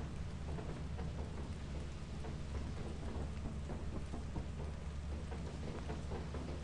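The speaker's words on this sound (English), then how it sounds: "How is it a desert when it's fucking raining?" Steady heavy rain hisses over a deep rolling rumble of thunder in the video game Lethal Company, continuous and fairly loud with no voices.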